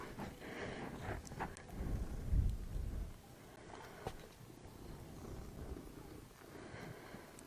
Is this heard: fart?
no